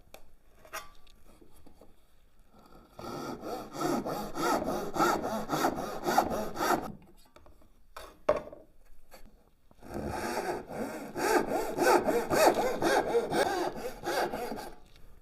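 Handsaw cutting wood for a dovetail halving joint: two long bursts of steady back-and-forth rasping strokes, close and loud, separated by a pause with a sharp knock, no talk.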